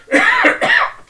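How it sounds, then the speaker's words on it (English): A single person coughs twice in quick succession, close to the microphone, with a short gap between the two harsh bursts; no other sound around them. "Excuse me, I have to cough here."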